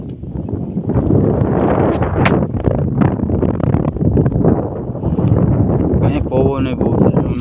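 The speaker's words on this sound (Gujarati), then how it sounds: "અહીંયા પવન બહુ છે. તમને અવાજમાં માયકમાં તમને ખોખું લાગી છે." Gusty wind buffets the microphone in an open farm field, a loud low rumble that stays constant while someone talks over it.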